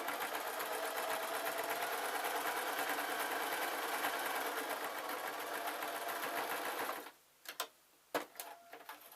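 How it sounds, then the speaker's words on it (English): A sewing machine stitches jester slippers at home, running in a fast, steady, close mechanical rattle for about seven seconds before stopping. A few sharp clicks and handling knocks follow. "I can do this bit on the sewing machine"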